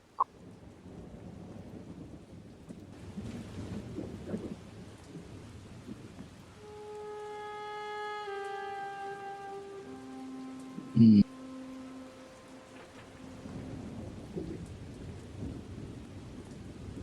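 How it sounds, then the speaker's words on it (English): Thunder and rain from the Halo ODST video game: a soft, steady patter of rain with low rumbles and one sharp, loud thunder crack midway. Sustained musical tones play over it. "Is that rain I hear too?"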